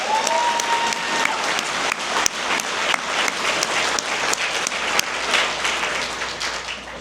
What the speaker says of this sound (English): another big round of applause for those Rockettes